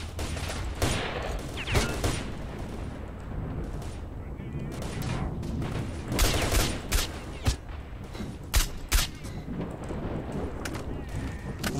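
Sniper rifle fire in the video game S.T.A.L.K.E.R.: Shadow of Chernobyl, set in Prypiat, with several sharp shots spread over a noisy backdrop of in-game sounds.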